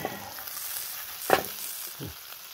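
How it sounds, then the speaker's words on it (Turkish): Peppers frying in hot oil in a home village kitchen, a soft continuous sizzle with a brief louder crackle midway and small stirring sounds, no talking. "Yağımız kızarınca şöyle biberleri atalım."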